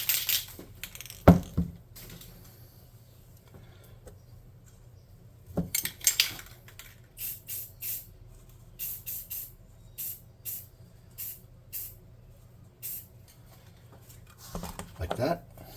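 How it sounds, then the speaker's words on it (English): Flat black primer sprays from an aerosol can onto small miniature figures in a series of short, separate hissing bursts, close and fairly quiet, with a few handling clatters between them. "let's spray paint him up"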